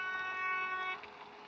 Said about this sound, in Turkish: Bir korna daha vuralım.